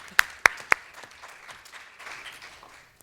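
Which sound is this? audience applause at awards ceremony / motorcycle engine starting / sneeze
audience applause at awards ceremony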